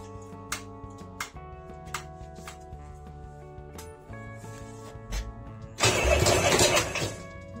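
A motorcycle engine, with its spark plugs just refitted after an oil leak, cranks and fires into a loud running burst near the end, following several seconds of quiet tinkling and clicking in a workshop.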